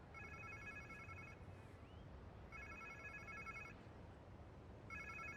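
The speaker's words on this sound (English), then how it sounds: "Sounds like somebody's phone." A telephone rings in Marvel's Spider-Man 2, three electronic trilling bursts with short gaps between them, faint and thin over a low rumbling game ambience.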